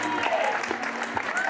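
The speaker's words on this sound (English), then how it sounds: "Please give all these ladies a round of applause." A short burst of steady audience applause for the contestants at a 2023 high school beauty pageant, heard from within the crowd with faint voices mixed in.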